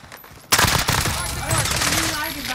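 Video game gunfire crashes in suddenly after a quiet start, a dense burst of rapid automatic shots carrying on steadily and close, with brief voices underneath.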